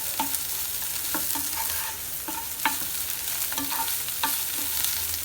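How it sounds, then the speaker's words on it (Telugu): Soya chunks frying in oil in a pan: a continuous sizzle with a rhythmic series of spatula stirs and scrapes, close and clear, no voices. "దీన్ని కూడా ఆయిల్లో ఒక 2 నిమిషాల పాటు మూత పెట్టి ఫ్రై అవనిద్దాము"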